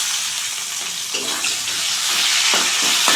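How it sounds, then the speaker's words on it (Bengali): Chopped tomatoes sizzle in a hot pan of oil with cumin and bay leaves, a continuous frying hiss that grows slightly louder, broken by occasional stirring scrapes. "মশলা দেওয়ার আগে এই টমেটো কুচিগুলো দিয়ে দিব"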